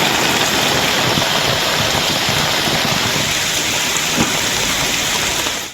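Heavy rain pours steadily in Tamil Nadu, a loud, dense, unbroken wash of falling water with a low rumble underneath, continuous for the whole stretch without pause or voices.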